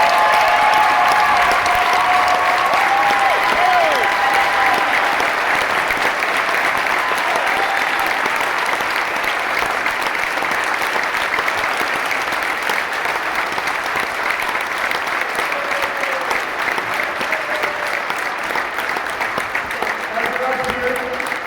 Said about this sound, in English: Please give him his applause.